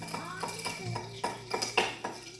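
A bar spoon stirs a mojito cocktail in a glass, giving light metallic clinks and rings in an uneven rhythm, with a few sharper taps near the end.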